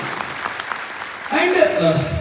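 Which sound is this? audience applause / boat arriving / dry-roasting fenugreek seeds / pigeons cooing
audience applause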